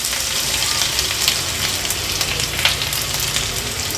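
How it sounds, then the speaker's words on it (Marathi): Crushed ginger and garlic hitting hot oil in a pan, a steady, loud, crackling sizzle that holds throughout with scattered sharper pops. "तेल पण छान गरम झालं। आता हे जे आलं लसूण क्रश आपण घेतलाय तो ऍड करूया।"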